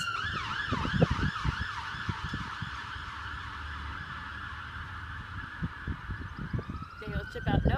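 An ambulance siren wails in a steady, rising-and-falling pattern, fairly loud and continuous over background clatter.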